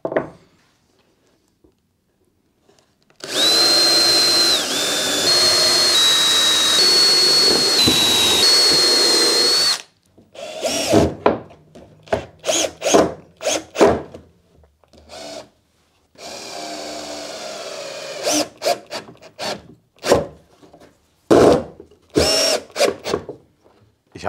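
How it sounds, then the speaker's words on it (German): Power drill boring pilot holes into walnut wood for a DIY table, one long loud sustained run followed by a series of short bursts and pauses, with no talking. "Drehen wir das Ganze einmal um, bohren unsere Löcher vor."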